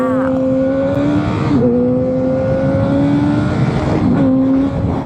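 Yamaha FZ8 motorcycle engine pulling steadily while riding on a road, a loud continuous drone with rising pitch through each gear, two brief dips for gear changes, with wind rush throughout.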